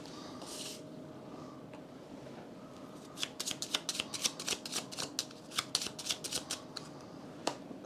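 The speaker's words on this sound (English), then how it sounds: "Shuffle it into the event deck." Cards from a board game's event deck are shuffled close up: a quiet lead-in, then a rapid run of crisp papery riffles and flicks that fades near the end.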